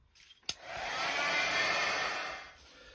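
A heat tool blows hot air to dry splattered craft ink on a stencil background. After a short click it becomes a steady, close whirring blow that holds for about two seconds and then cuts off.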